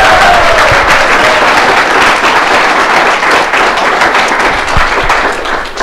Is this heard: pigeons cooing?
no